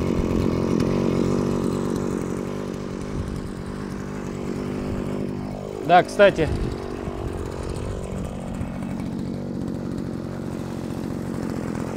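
A Holzfforma FP226B gasoline pole saw engine idles as it warms up, a steady buzzing two-stroke drone. Someone speaks briefly partway through, and two short louder bursts of engine noise sound near the middle.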